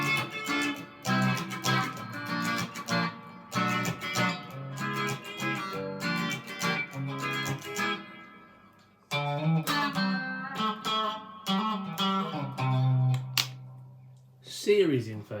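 A PRS electric guitar with two pickups wired in series and switched out of phase is played through distortion, giving thin, nasal strummed chords and picked notes that ring loud and close, with a brief gap near the middle.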